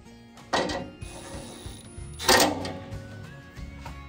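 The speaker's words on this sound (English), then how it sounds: "I think we can run this down just a smidge with the" A power gun drives a fastener while a Harbor Freight slate grey five-drawer tool cart is assembled, giving two short bursts of whirring and rattling close by, with light clatter between them.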